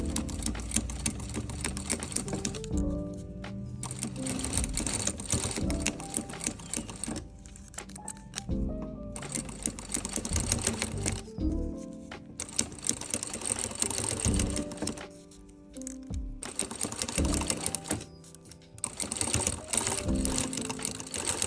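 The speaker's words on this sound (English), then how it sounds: "I'm just going to sew in the middle of the ridgeline just to steady it" A sewing machine stitches corset loops down the middle of a ridgeline, running in repeated bursts of rapid, even needle clatter with short pauses between runs, close and fairly loud.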